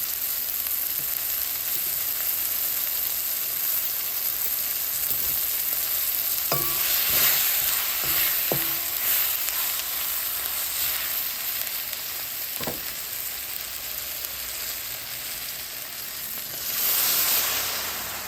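Spice powder sizzling in a pan while curry fries, a continuous soft hiss broken by a few sharp scrapes and clinks of a stirring spoon, close by with no talking.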